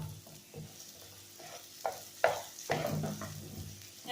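Onion and green chillies sautéing in a pan over a low flame, with a soft sizzle and a few clattering stirs of a spatula that grow louder toward the end, with no talking.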